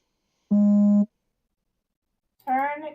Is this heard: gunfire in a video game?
no